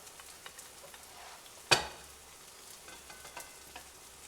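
Already cooked rice fries in a pan as it is stirred, a faint steady sizzle with a sharp scrape or knock of the utensil partway through, close and without talk.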